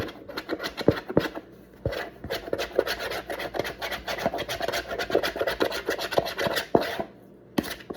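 Bread dough of flour and water is scraped by hand around a bowl, giving close, repeated rasping and rubbing strokes with scratchy bursts and short pauses between passes.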